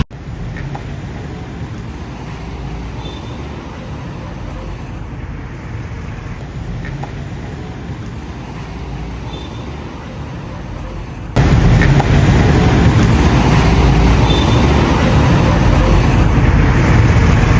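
An Audi A4 car drives along with a steady engine and road rumble heard from inside, which grows noticeably louder partway through and stays constant.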